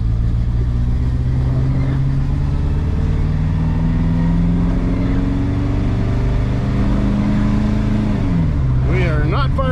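A V8 engine running rough on a test drive, misfiring and not firing on all cylinders, drones steadily and loudly up close throughout, with a pitch change near the end as the vehicle is turned around.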